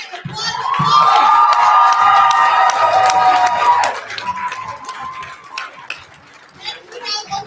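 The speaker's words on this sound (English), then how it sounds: "Applause." Crowd at a youth poetry slam bout cheers and whoops loudly for several seconds after the scores, then the noise drops to scattered voices and murmur.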